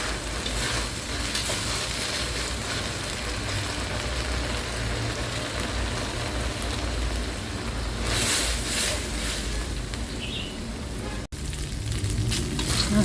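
Shrimp shells fry in hot oil, giving a continuous dense sizzle with occasional stirring scrapes, steady and close throughout.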